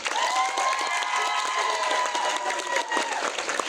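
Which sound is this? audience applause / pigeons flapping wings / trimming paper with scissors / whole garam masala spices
audience applause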